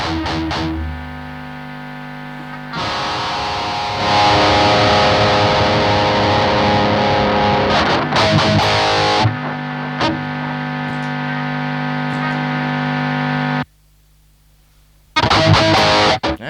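Electric guitar played through Engl amplifiers (an Ironball SE and a Metal Master) with no effects, a loud, heavily distorted sustained tone with chugging and ringing chords, dropping out briefly near the end before returning, with no voices.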